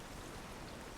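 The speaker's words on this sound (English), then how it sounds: "As the rain kind of beats down upon you" Rain sound effect of steady, dense rainfall, a continuous soft hiss of drops filling the whole short moment at low volume, with no voices.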